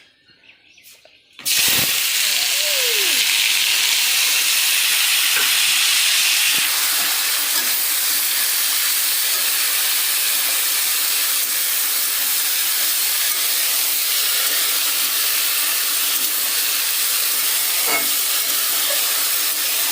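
Potatoes drop into very hot oil in a pan, a sudden loud burst of hissing that settles into a strong, steady, close sizzle lasting throughout.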